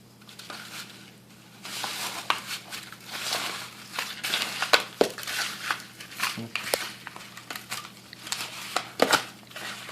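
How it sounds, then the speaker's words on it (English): Chicken pieces are tossed and pressed in dry breadcrumbs for fried chicken, giving close, irregular crunching and crinkling rustles that come in short bursts. "Throw it all in the breadcrumbs."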